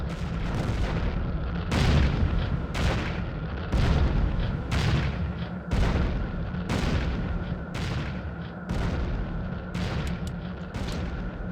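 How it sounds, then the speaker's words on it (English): Anti-aircraft artillery fire in the Falcon 4 Allied Force flight sim thuds in a steady rhythm of about a dozen heavy booms, roughly one per second, over a constant rumbling background. "This AAA or the artillery might be quite devastating."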